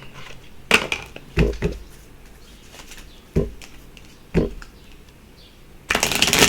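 Moonology oracle cards being shuffled and drawn, with sharp riffling bursts and soft flicks that come in several separate clusters and end in a longer run of shuffling, close and fairly loud in a quiet room.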